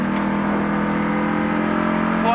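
A 1985 Australian Touring Car Championship race car at Barbagallo holds a loud, steady high-pitched engine drone, rising slightly in pitch as it accelerates.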